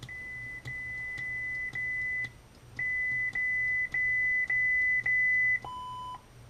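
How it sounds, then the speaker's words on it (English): A Neopixel lightsaber's volume menu gives a string of short, identical high beeps at a steady pace, ending in one lower-pitched tone, close and clear. "There's the beep."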